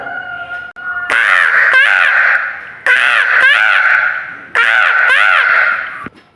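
A voice imitates a crow cawing: three bursts of harsh, repeated caws, loud and close, with short gaps between.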